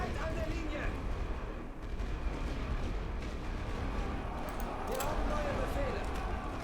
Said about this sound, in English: Now his own artillery is firing right on the position where the British are.